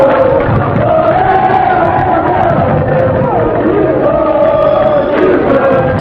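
Football supporters at the 1996 CSA match reopening Mutange stadium chant together in a loud, sustained roar, with massed voices rising and falling throughout.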